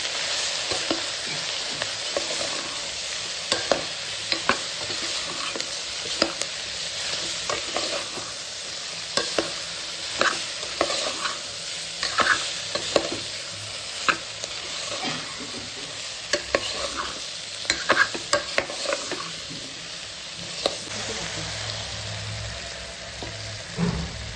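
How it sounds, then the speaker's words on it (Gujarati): Cabbage and potato curry with spices being stirred in a pan, steady sizzling under repeated scraping and tapping strokes of a spoon throughout. "આપણે મસાલા સાથે શાકને સાંકળી લેવાનું છે"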